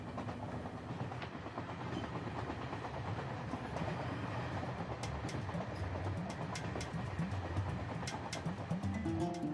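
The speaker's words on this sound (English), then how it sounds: "I'm on a train heading south to the land of Nubia." A train heading south toward Nubia rumbles steadily along the rails, with a dense low roar and faint rhythmic clicks of wheels over track joints, heard from inside.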